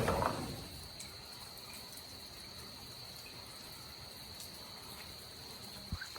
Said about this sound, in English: Can you hear that? All the bugs and frogs and stuff.